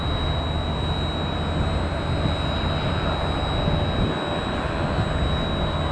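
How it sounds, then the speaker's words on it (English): A United airliner taxiing slowly at an airport, a steady broadband jet engine rumble with a faint high whine, close and continuous, with no voices. "That's a United taxiing at about 3 knots."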